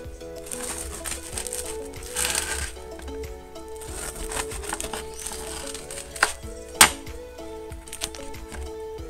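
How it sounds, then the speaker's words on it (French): Crisp crackling and crunching as a knife saws through a crusty round tradition loaf, with scattered sharp cracks and soft rustles, close and fairly quiet. "Je vous laisse écouter la découpe, c'est plutôt satisfaisant."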